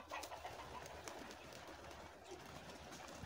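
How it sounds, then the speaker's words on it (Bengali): Pigeons coo at a crowded pigeon farm on a Saudi Arabian farm house estate, faint and distant under a constant, even background. "এই যে অসংখ্য কবুতর,"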